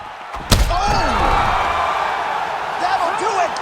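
Arena crowd in UFC 5 roaring and cheering right after a knockout, following a sharp slam-like impact, with whoops and rising voices over a steady crowd bed, while a commentator talks over it.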